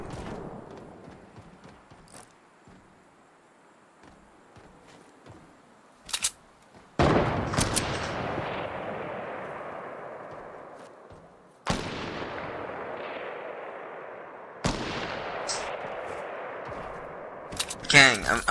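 Sniper rifle shots in the Fortnite video game, four or five sharp, loud cracks spaced several seconds apart, each trailing off in a long echoing decay, over a quieter background with faint talk.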